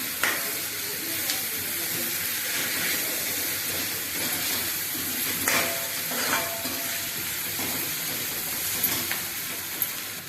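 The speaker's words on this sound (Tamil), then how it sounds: "வதங்கி எடுத்து இப்போ பூண்டு இஞ்சி பேஸ்ட் போடுறேன்" Garlic-ginger paste sautéing in a pan for sponge gourd and ivy gourd masala rice, a steady soft sizzle with brief stirring scrapes, close and fairly quiet throughout.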